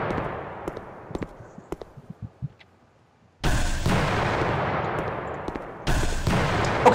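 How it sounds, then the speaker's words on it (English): A weapon firing and exploding in a Unity game demo: scattered light taps and clicks, then a sudden loud explosive blast with a long roaring decay, followed by a second blast near the end. "if we fire and it explodes near rigid bodies"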